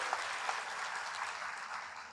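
An audience at a stunting-prevention kickoff event claps for Mbak Kade, a brief, fairly faint wash of applause with a few distinct claps near the start.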